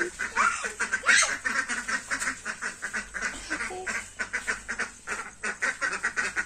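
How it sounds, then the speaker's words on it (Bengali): A flock of ducks quacks loudly and repeatedly at close range as they are herded into their shelter, a dense run of overlapping calls with no talk over them. "চলো হাঁসগুলো ঢুকে দিয়ে আসি"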